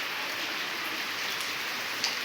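Very heavy monsoon rain falls in a dense, steady hiss on surfaces nearby, loud and unbroken, with no one speaking.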